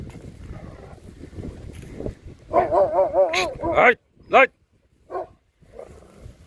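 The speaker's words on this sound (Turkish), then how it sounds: "Arkadaşlar çoban köpekleri geldi." Shepherd dogs bark in bursts nearby while a person shouts over them; whines and yelps mix in before the barking breaks off.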